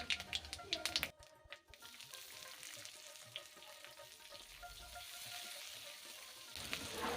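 Chopped onions sizzle and fry in hot oil with bay leaf, whole garam masala and five-spice, a steady close crackle with a few brief taps and stirs at the start.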